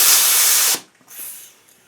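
Compressed air hissing out of a leaky hose outlet on a compressor set to 90 psi, heard as a loud, close hiss for about three quarters of a second, then a short fainter hiss after a brief pause.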